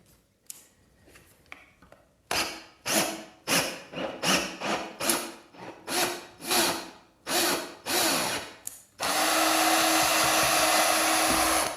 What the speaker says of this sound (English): Slow down the drill now.